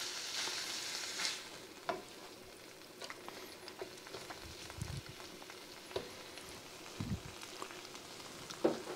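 Hamburger meat sizzles and fries as it browns in a big pot, a soft steady crackle with occasional stirring scrapes and clinks, fairly quiet and without talk.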